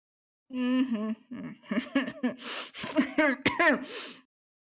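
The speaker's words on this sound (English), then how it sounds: "you need to work on that cough" A voice coughs and clears its throat several times in rough, uneven bursts at close range, with vocal sounds in between.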